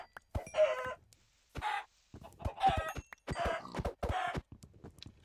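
Minecraft chickens clucking as a player chases them for experience points: several bursts of close, fairly loud clucks in an irregular rhythm, with sharp clicks between them.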